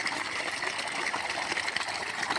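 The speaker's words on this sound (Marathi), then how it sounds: "उन्हाळ्या बाजरीला पाणी देत आहे." Irrigation water gushes and gurgles steadily into a summer millet field, a continuous turbulent rushing flow heard close by at moderate loudness, with no voices.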